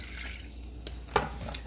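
Water poured into a cooking pot while making seafood gumbo, a close series of short splashes and drips with one sharper splash near the end, over quiet kitchen background.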